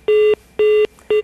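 Three evenly spaced telephone keypad tones beep in quick succession, loud and clean with short gaps and no voices.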